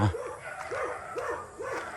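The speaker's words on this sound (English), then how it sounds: "the dogs are going to come out and bark at me" Several dogs bark in a repeated rhythm, about four barks spaced roughly half a second apart, heard outdoors on a walk around a mountain in the Philippines at moderate distance over steady background noise.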